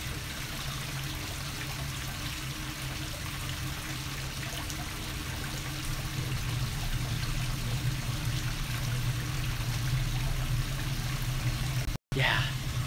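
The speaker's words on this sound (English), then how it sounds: "I love that sound of running water." A steady wash of running water at a hot spring in Iwaki, Fukushima flows continuously in the background, fairly close and even.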